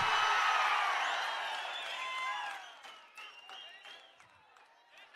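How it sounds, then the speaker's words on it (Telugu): At a political rally addressed by a politician, a large crowd breaks into loud clapping and whistles that swell at first, then gradually thin out and fade, with scattered shouts and voices mixed in. "అవునంటే గట్టిగా చప్పట్లు కొట్టి చెప్పండి"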